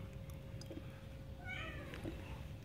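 A cat meows once, a short clear call near the middle of a quiet indoor scene with low background hum and no speech.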